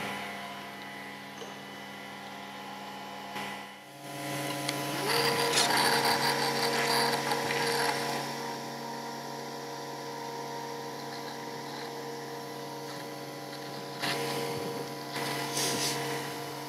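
A Conturo KA65 woodworking edge banding machine applies lipping to a panel edge, giving a steady mechanical hum with a brief dip, then a louder whirring, grinding burst as the edge is worked, continuing at a constant level.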